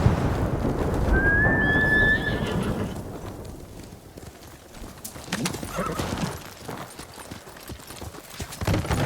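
A horse in the samurai action game Ghost of Tsushima gives a clear whinny early on, followed by muffled hoofbeats and thuds clopping along at close range.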